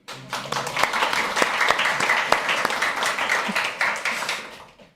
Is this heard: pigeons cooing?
no